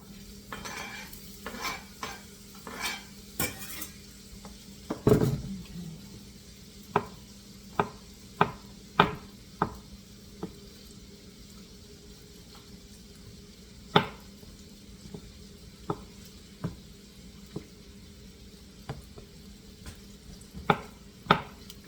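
Onions sautéing in a pan: a soft sizzle sits under a string of distinct spoon taps and scrapes against the pan, spaced a second or so apart, close and quiet, with no talking.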